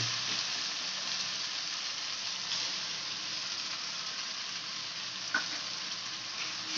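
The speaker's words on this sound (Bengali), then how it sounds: "টমেটো কুচিটা দিয়ে এবার টমেটোটা সফট না হওয়া অবধি আমরা ভালো করে এটাকে ভাজবো মশলাটাকে" Chopped tomato and masala sizzle and fry steadily in a pan for a restaurant-style pomfret fish curry, a close, even hiss with faint stirring, alone and with no voices.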